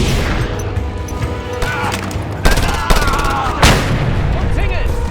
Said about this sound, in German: Da war die Granate des Vertrauens.